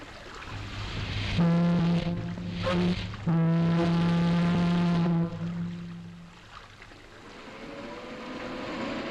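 WWII ship's siren blowing signal K during the North African landings, a loud long-short-long pattern of steady horn blasts over faint sea and engine noise.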